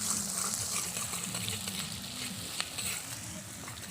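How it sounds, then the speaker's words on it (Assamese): Onions frying in a pan, a dense continuous sizzle with crackling pops and occasional stirring scrapes, close and steady with no voices. "ইয়াত এতিয়া পিঁয়াজ ভাজি থকা হৈছে"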